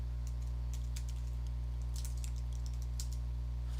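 Computer keyboard typing in bursts of quick, light clicks over a steady low electrical hum, with no voices.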